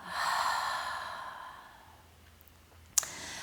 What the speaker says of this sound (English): we slowly start to deepen our breath, to deepen the inhale and exhale